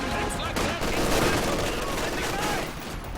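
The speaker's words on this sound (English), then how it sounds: "AT gun firing on the Sherman right there." An anti-tank gun fires on a Sherman tank in a wartime strategy video game, amid loud, dense bursts of overlapping gunfire and explosions across the whole stretch.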